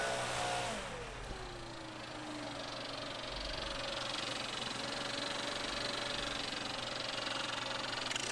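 A leaf blower drones steadily close by as it blows gravel out of grass, with its pitch sliding down early on and then holding a continuous engine roar with no talk.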